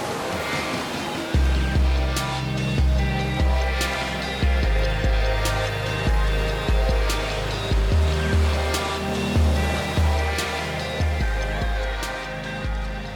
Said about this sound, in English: You get some slow motion of the wave breaking over this on point.